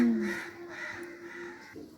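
Crows cawing from a house rooftop just after rain: a couple of harsh, nasal caws that are close and fairly loud, then trail off over quiet outdoor background.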